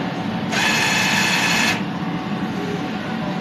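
A DTF printer runs a nozzle test, giving a steady mechanical whir that starts abruptly, holds for about a second, then cuts off against a constant background hum.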